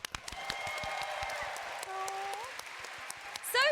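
A crowd at a Final Fantasy XIV fan festival claps and cheers in a dense, sustained burst of applause, with voices calling out over it and the noise swelling louder at the end.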